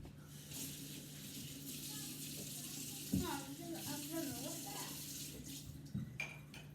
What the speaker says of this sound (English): I need to wash my hands.